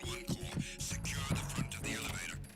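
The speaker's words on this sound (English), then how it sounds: "if they're standing close by to you, you can hear your heartbeat increase," A heartbeat effect from the video game Metal Gear Solid 2: soft, low, muffled thumps pulse in a steady rhythm beneath a busy bed of game ambience and music.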